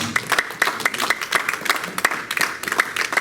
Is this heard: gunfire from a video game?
no